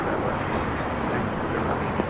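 An Air Tahiti Nui Dreamliner takes off at LAX. Its engine roar is a steady, loud, broadband rumble that fills the whole stretch without letup, heard from the airport side with no talk over it.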